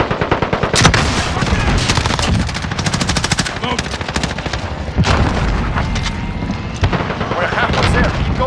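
Call of Duty: Modern Warfare gunfire plays as dense, rapid automatic bursts with heavy booms, loud and continuous, with voices calling out over the shooting.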